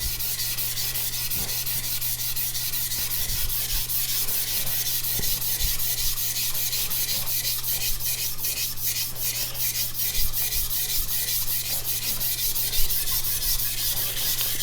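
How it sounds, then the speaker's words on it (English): A CCK Chinese cleaver drawn in long, steady strokes across a whetstone, a close, continuous gritty rubbing and scraping with a soft repeating rhythm and no talk. "we do some very long strokes at the end to almost try to remove the burr on this stone"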